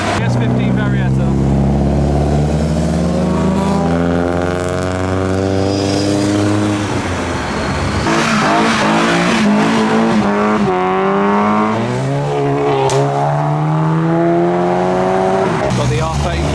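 Modified cars driving out of a car park at a remembrance meet, loud engines revving and rising and falling in pitch one after another, close by and continuous, with voices around.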